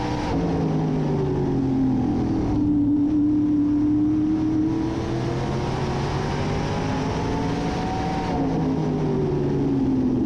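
A NASCAR Modified race car drives on track with its engine droning steadily throughout, pitch sliding up and down with throttle changes as it rounds the corners.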